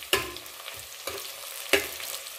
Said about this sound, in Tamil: அப்புறமா 2 பச்சை மிளகாய் இதையும் போட்டு லைட்டாக வறுத்துக்கலாம்.